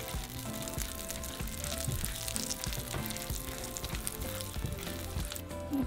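Dried chile de árbol frying in oil in a pan gives a steady, close crackling sizzle that runs unbroken throughout, with no talk.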